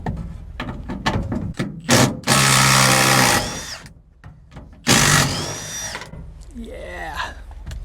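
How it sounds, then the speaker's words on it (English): A power drill works on 9/16 seat bolts under the seat of a 1969 Ford F100 pickup, giving two long, loud whirring bursts between clanks and rattles of tools, close by. "We can get the drill on these."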